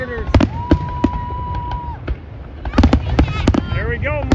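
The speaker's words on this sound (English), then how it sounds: "There we go, mortars. A lot of mortars." Firework mortar shells exploding at a big outdoor display, a rapid scattered barrage of sharp bangs with a sustained whistling tone, while people talk and cheer around the listener.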